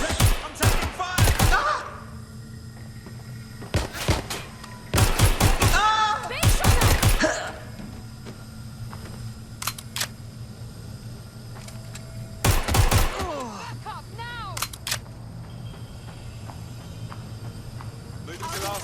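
Gunfire in the Watch Dogs Legion video game on PS4, clustered bursts of rapid shots in several volleys with quiet gaps between, loud and close, with game voices speaking in between.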